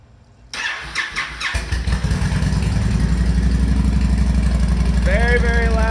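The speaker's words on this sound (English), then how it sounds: "I guess I can start the bike. You can hear it." A 2010 Honda Stateline motorcycle engine cranks with a few starter whirs, then fires and settles into a loud, deep, throbbing idle close by, with a brief voice near the end.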